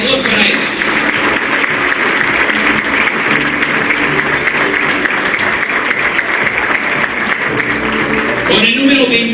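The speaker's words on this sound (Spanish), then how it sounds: "Un aplauso, por favor, para él." Loud, sustained applause from an audience at a Cruz Azul jersey presentation, dense and close, with crowd noise under it that tapers off near the end.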